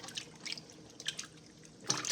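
Pork chitlins being rinsed in water: soft, intermittent splashes and drips, fairly quiet and close, with a brighter splash near the end.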